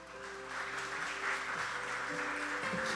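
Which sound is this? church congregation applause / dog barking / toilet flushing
church congregation applause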